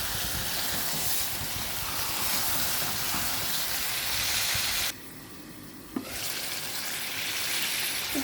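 Fish sizzling and frying steadily in a hot pan, a continuous close crackling hiss that drops briefly midway before resuming, with a sharp clink near the end.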